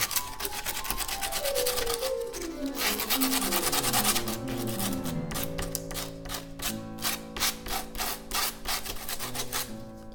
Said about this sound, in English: I should sand that too.